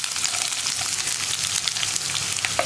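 Onions frying in a pan with crushed ginger and garlic in hot oil, after mustard seeds have popped, give a steady, dense sizzle with faint scraping of stirring throughout and no talk.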